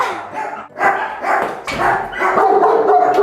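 A dog barks repeatedly at close range, giving several sharp barks in uneven bursts with short yips between them, alone without talk.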